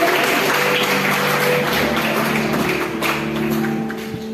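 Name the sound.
graduation audience applauding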